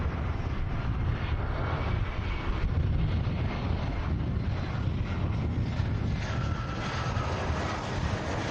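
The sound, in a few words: airplane landing at Manchester Airport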